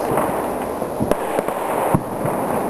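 Fireworks rockets go off outdoors as a handful of sharp, scattered pops and bangs over a steady background roar, one burst standing out louder than the rest.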